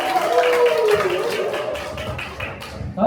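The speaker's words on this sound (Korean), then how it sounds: "큰 박수 다시 한 번 부탁드립니다." An audience at a dance club's founding ceremony in Pohang claps after a congratulatory speech. The scattered, moderately loud clapping slowly thins out, and background sound sits under it.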